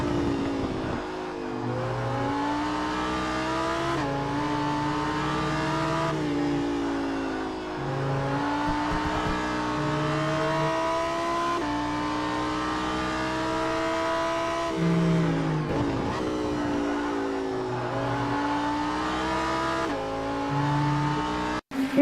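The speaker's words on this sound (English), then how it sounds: "Let's ride with JT Tammy in the number 202 Lamborghini STC" A number 202 Lamborghini STC race car laps Laguna Seca, its engine droning steadily and rising and falling through gear changes, loud and continuous from onboard with no talk.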